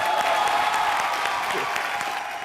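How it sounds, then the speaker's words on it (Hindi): Studio audience applause at a TV comedy show, dense and steady throughout, loud and close with a crowd murmur blended in. "बमन सर के लिए जोरदार तालियां।"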